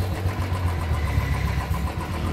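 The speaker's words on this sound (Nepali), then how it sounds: "पगलाले मेरो बाइक कुदाउँदैछ" A Royal Enfield motorbike's engine runs nearby with a steady, loud low-pitched rumble and throb throughout, no voices heard.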